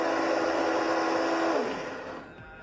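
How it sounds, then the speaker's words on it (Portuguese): A blender whirs steadily as it purées cashew cream cheese with a splash of white wine vinegar, then the motor winds down and falls quiet near the end. "E é só bater tudo no liquidificador"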